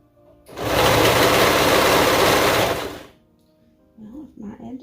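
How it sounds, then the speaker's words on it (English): A serger overlock machine stitches the edges of car seat cover fabric in one loud, steady, close whirring run of about two seconds, then stops as a person starts talking. "Okay, so we're just gonna serge."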